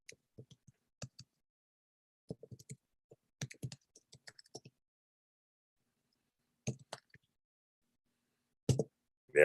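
Scattered bursts of keystrokes and clicks on a computer keyboard, close and fairly quiet, with irregular pauses between short clusters and a louder thump near the end.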